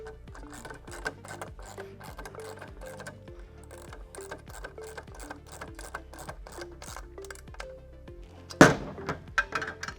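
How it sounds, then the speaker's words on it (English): A ratchet tightens carriage bolts during a Ford Bronco 6G slide floor and drawer top install, giving steady, rapid close clicking throughout with a louder clunk near the end. "Tighten this one the rest of the way."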